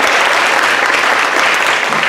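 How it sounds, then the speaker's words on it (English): Audience applause, a dense steady wash of clapping hands filling the whole moment at a constant loud level. "Can we give them a round of applause for it?"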